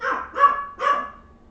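A dog barks three times, set off by a high-pitched squeak: close, mid-pitched, evenly spaced barks that trail off into a quiet room.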